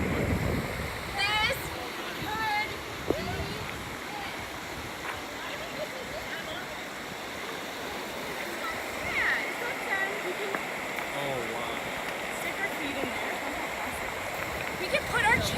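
Steady broadband wash of a river stream flowing past a riverside campsite, continuous and fairly close throughout, with people talking over it and occasional birdsong.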